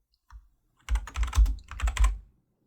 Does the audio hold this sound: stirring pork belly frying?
no